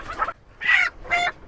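Indian chickens kept in a yard in Kuwait give three short, close, loud clucking calls separated by brief pauses.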